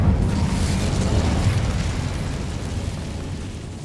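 The Incendio fire spell in Hogwarts Legacy erupts as a loud, whooshing burst of flame with a deep rumbling boom that slowly fades over a few seconds.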